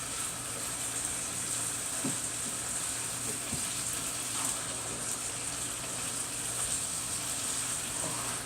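Texas hot chili sauce bubbles and sizzles softly in a pot as it is stirred, a faint continuous hiss with a couple of light knocks and no talking.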